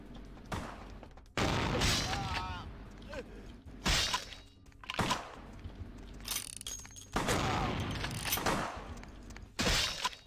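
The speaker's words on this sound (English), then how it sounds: "How do you guys shoot so quick?" Rapid gunfire and crashing impacts in VTM: Bloodlines, with several loud, sharp bursts spread unevenly across the clip among quieter stretches and faint game sounds.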